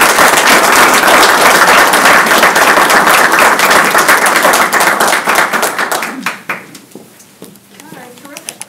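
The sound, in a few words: applause for new members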